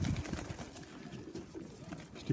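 Pigeons coo in a soft, continuous low murmur during feeding time with barley, a busy flock close by with overlapping calls and no clear pauses.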